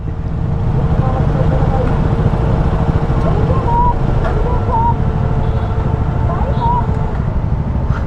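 A group of KTM motorcycles rumbles together during a parade ride, a steady, dense engine drone with faint revving rising over it throughout.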